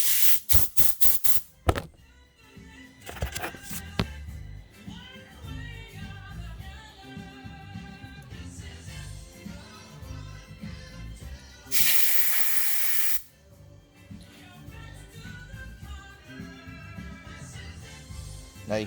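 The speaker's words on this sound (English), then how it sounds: "See if we can just get it to go right out with some compressed air." Compressed air is blown through the carburetor of a 6 hp outboard motor during cleaning, with a loud hissing blast of a second or so after clicks and knocks of handling the part.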